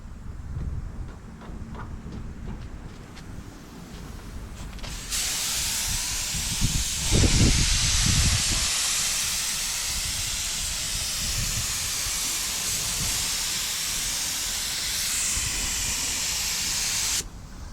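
A paint spray gun lays a coat of Krylon charcoal gray onto a car bumper with a steady, loud hiss of atomized spray that holds for most of the stretch after a quieter start, with no talk.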